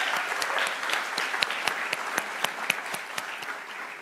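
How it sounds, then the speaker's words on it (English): A graduation ceremony audience gives a round of applause to the school team, with steady clapping and a few sharp, distinct claps standing out throughout. "A round of applause to the whole team."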